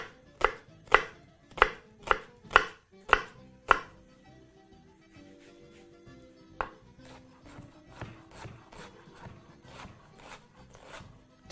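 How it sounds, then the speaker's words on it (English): Sharp knife chops on a cutting board as an onion is finely chopped, a quick regular run of strikes, then softer, lighter chopping continuing at a slower, uneven pace. "now very, very simply proceed to start chopping your onion finely."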